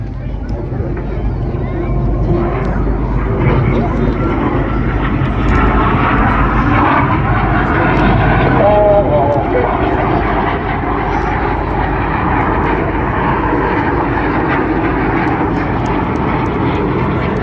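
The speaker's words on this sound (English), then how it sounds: "Each aircraft once again dive down to 100 feet." Red Arrows jets diving to low level in a formation display at the Blackpool air show, a loud continuous engine roar that holds steady throughout while a commentator talks over it.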